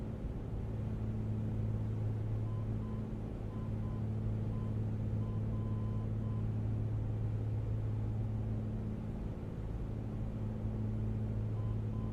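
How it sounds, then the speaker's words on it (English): A warning beep sounds in a Piper Comanche in Microsoft Flight Simulator: a soft, evenly repeating tone over a continuous low engine drone, with no talk. "We gotta figure out this beeping, guys."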